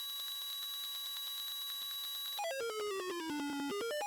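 A piezo buzzer driven by an Arduino holds a shrill, steady tone, then its pitch sweeps down and back up in a quick warbling glide, loud and alone.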